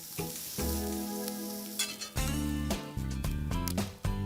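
Shrimp frying in oil and butter in a skillet, a steady close sizzle with stirring and scraping in the pan, with music playing alongside.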